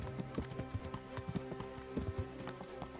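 Horse hooves gallop in the video game Kingdom Come: Deliverance, a steady rhythmic clip-clop of repeated close thuds running throughout, with a few faint snorts in the background.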